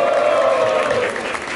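Rap battle crowd at a Brazilian afrobeats battle cheering and shouting to vote, a dense, loud wash of applause and voices held steady throughout.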